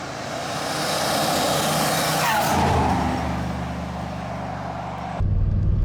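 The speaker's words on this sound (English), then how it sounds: "so we're heading out for a drive with Dave in the car." Twin-turbo 4.6-litre V8 Range Rover P38 on big off-road tyres driving, a steady engine and road drone building gradually, with a sweeping pitch shift midway and a sudden change to a heavier low rumble near the end.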